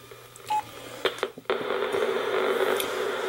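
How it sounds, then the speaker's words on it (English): An inexpensive household phone beeps as its keypad is pressed, several short dialing tones followed by a sustained static-like hiss. "I'm going to dial my number here."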